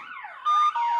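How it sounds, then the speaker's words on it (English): A Bosch Solution alarm system siren tone sweeps up and down in a loud electronic wail, joined midway by a steady high beep before the sweeping resumes, close and with no talking. "there's the first round of the siren tone"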